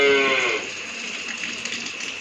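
A dairy cow lets out a single loud, close moo that fades after about half a second, leaving faint room noise behind it.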